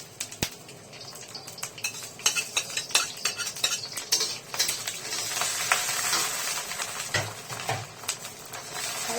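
Whole spices tempering in hot mustard oil for a raw jackfruit dish, crackling and sizzling steadily in a pan with frequent scraping stir strokes of a utensil, close and fairly loud, no talking.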